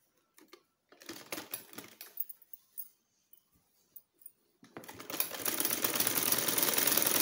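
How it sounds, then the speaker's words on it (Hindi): A sewing machine stitches a gents' shirt cuff: scattered soft clicks and handling noises, then a loud, steady, continuous machine run that lasts to the end. "यहाँ पे हम सिलाई लगाएंगे।"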